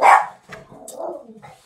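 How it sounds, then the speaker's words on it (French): A dog gives one loud, close bark followed by a few quieter grumbling yips and growls, heard during a card reading session with no talk over it. "Fallait bien qu'elle aboie, hein."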